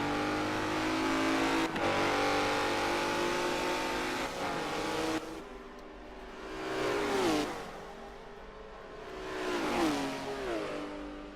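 GT4 race cars at Suzuka roar past in quick succession during a three-car battle, engines revving high and fading, with a loud sustained whine followed by two separate drive-bys.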